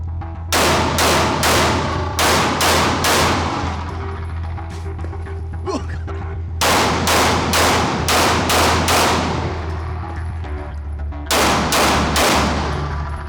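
A SIG P320 handgun fires in three rapid volleys of sharp, loud shots, several close together in each burst, with the shots ringing out between the volleys.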